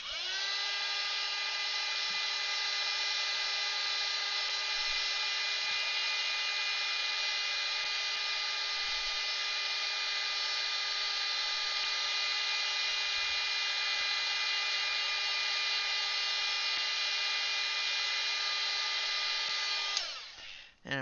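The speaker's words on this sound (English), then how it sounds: "hot air gun." Hot air gun drying Derwent Inktense ink on paper, a steady, close, high-pitched motor whine with strong harmonics that runs unbroken for about twenty seconds before cutting off, with no voices.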